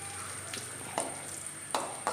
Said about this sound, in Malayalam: ഇത് നമ്മുടെ ഉണക്കമുന്തിരിങ്ങ വറുത്തു.